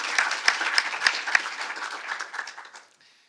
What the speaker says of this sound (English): A big round of applause to our speakers and the chair.